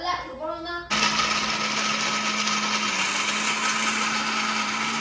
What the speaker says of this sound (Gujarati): મિક્સરમાં શેંગદાણા પીસાવા માંડ્યા છે